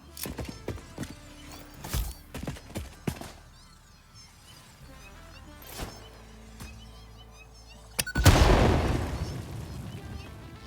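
An explosion in the factory-building game Satisfactory, bursting loud and close after a series of sharp thuds and clicks, then breaking into a broad roaring wash that fades over a couple of seconds, with no talk.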